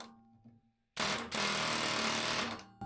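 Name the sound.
air hammer loosening seized shock bolts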